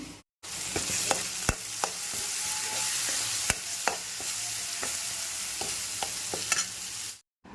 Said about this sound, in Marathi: हे मीठ थोडंसं बटाट्यात घालून मिक्स करून घेणार आहे